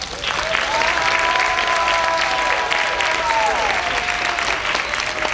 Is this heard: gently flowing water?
no